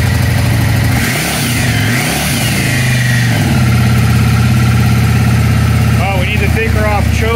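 Yamaha V Star 650 motorcycle engine running close by, its pitch rising and falling as the throttle is blipped, then settling into a steady high idle with a few quick revs near the end.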